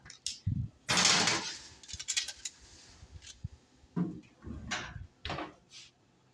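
Cookie trays going into a preheated home oven during Christmas baking: a few light metallic clunks and a door clatter, sharp knocks scattered between quieter handling noises, close by with no talk.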